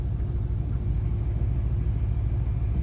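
A boosted Ford Mustang GT on the road gives a steady, loud, close engine rumble throughout, with only a faint high whine sitting above it.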